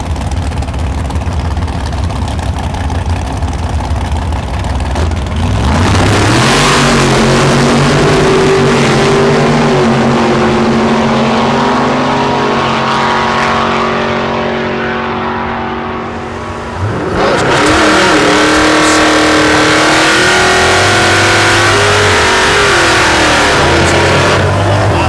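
A naturally aspirated Cutlass and another drag car at Thunder Valley in Noble, Oklahoma idle loudly, then launch with roaring engine revs that rise, fade briefly and surge again, very loud and close.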